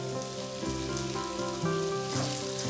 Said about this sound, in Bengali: তিন চার মিনিট মতো মিডিয়াম ফ্লেমে এটাকে ভেজে সবজিগুলো যেন নরম হয়ে যায়